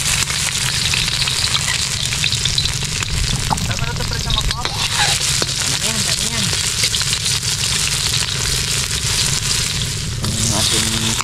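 Ginger and garlic sizzle and crackle in a hot pan, a loud, continuous frying hiss with occasional utensil clinks, while a person talks over it.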